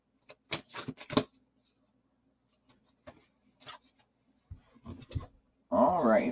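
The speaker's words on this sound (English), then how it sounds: "I literally started shuffling and had 4 cards come out all at once." Scattered dry clicks and riffling snaps of tarot cards being shuffled, with quiet pauses between bursts and a short louder rustle at the end.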